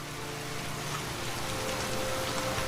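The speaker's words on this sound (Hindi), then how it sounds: "बहुत तेज़ बारिश हो रही है" Heavy rain pours steadily on a village night in cold weather, a dense continuous hiss with a faint low hum beneath it and no voices.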